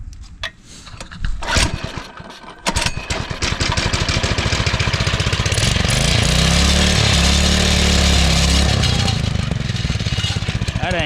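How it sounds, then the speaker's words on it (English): A small minibike engine with its original factory motor sputters and catches, then roars loudly and close at full throttle, a sustained, rough, buzzing rev that holds for several seconds. A voice is audible briefly at the start. "So we can give it some beans, we can full rev it"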